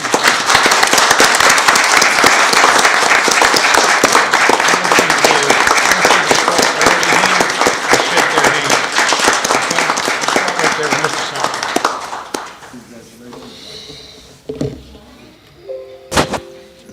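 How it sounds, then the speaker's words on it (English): A city council meeting audience applauds two local heroes, a dense, sustained round of clapping that holds steady for about twelve seconds before dying away into a quieter room with scattered small sounds. "all this applause that you're going to hear is for you guys"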